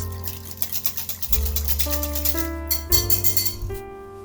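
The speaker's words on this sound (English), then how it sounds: "Whisk everything together until smooth." Egg, salt and melted butter are whisked together in a bowl with quick, rhythmic scraping strokes, close and fairly soft, set against background music.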